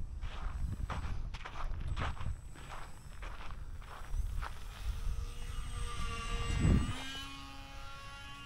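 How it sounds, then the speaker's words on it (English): A radio-controlled model airplane, a UMX Turbo Timber Evolution or Miro Draco, flies overhead: a steady motor whine with rising and falling pitch through the pass, with footstep-like thumps and outdoor hum beneath and a loud close burst near the end. "And this is a much faster plane."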